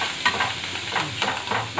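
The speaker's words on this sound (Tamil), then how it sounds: "நல்லா வதங்குது, அது கொஞ்ச நேரம் வதங்கட்டும்." Manathakkali greens sautéing in hot oil in a pan, a close, steady sizzle with several stirring scrapes at a regular rhythm, no voices.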